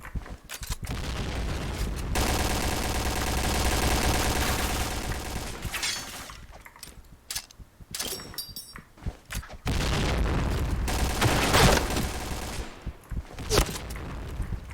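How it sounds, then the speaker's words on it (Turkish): A grenade is thrown and explodes in the Point Blank shooter game amid heavy gunfire, with loud sustained bursts and booms, some gaps and a few sharp shattering hits, close and dominant with no talk. "Şuraya bir bomba atayım ya."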